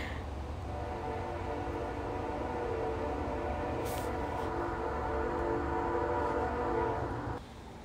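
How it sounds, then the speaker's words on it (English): A train passes outside, a steady rumbling roar with a brief horn-like tone, sustained and moderately loud before easing off near the end. "And there's my train again."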